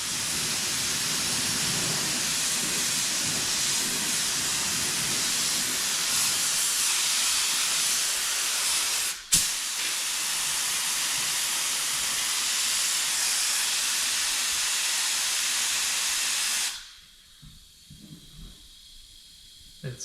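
A spray gun lays another coat of paint over fine-line masking tape, a steady loud hiss running continuously, briefly interrupted once, then cutting off near the end into a quiet room.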